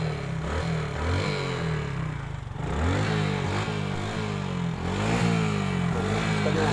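A Hero Super Splendor motorcycle with a white smoke fault idles and revs close by, its engine note climbing and falling in several throttle blips with a steady mechanical rumble underneath.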